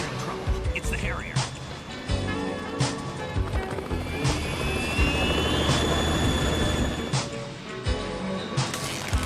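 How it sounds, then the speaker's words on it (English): A Harrier jet aircraft in a Metal Gear video game, a loud roaring engine with rising whining tones and sharp impacts, with game voices and effects mixed in throughout. "It's the Harrier."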